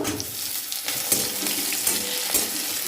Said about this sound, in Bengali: এবার আমি এর মধ্যে দিয়ে দেব কেটে রাখা টমেটোগুলো